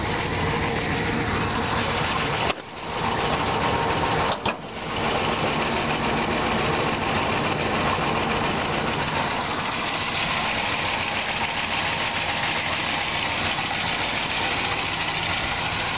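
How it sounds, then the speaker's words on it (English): A 1957 Chevy 150 Handyman's stock 327 V8 idles steadily at a constant low rumble, with two brief dips early on, then runs smoothly throughout without voices. "You can hear the engine just purrs like a kitten."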